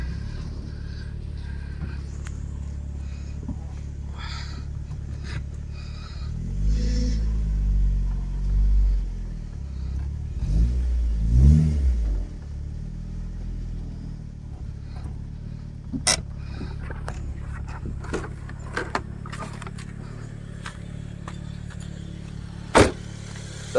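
Proton Wira with a 4G15T engine and Waja crank on a test drive, its engine rumbling low and steady with a swell of revving midway, plus scattered mechanical clicks and a sharp knock near the end; no talking.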